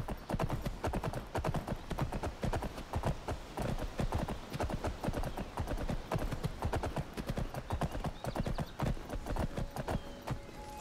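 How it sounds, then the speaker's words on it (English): A horse's hooves clip-clop steadily at a brisk walking rhythm on a path in Skyrim, with continuous close, distinct footfalls heard alone. "We got a horse"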